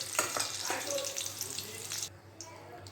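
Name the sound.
potatoes frying in oil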